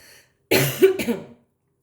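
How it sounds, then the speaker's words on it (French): A single close, rough cough burst after a brief quiet moment, with no talking around it. "Excusez-moi, je vais tousser."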